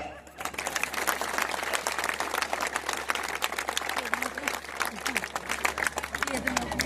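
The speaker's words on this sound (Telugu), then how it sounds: "చప్పట్లు మోగట్ల" A large audience claps at a devotional speech event, producing dense, sustained applause that starts abruptly and stays steady and full until the end.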